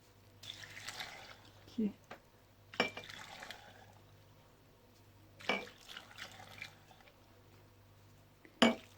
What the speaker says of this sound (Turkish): Üzerine sirkesini ilave ediyoruz arkadaşlar.